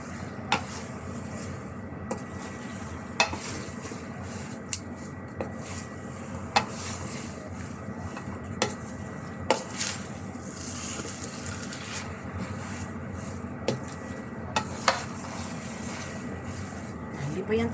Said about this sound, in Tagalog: Ito yung paghalo ang medyo mahirap, guys.